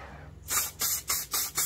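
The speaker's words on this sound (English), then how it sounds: "So, I've got silicone spray, all-purpose silicone spray." All-purpose silicone spray hisses from a can in four short bursts, loud and close, with brief pauses between blasts and no talking.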